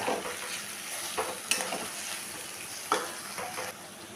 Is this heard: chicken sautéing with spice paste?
yes